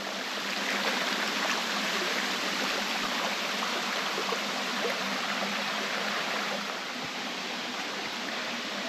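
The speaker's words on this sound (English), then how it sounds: "all funnels down right here to this little trickle that isn't much wider than my foot" A small trickle of a stream, no wider than a foot, runs below Round Island Falls. A steady, close hiss of running water continues evenly with no other sounds.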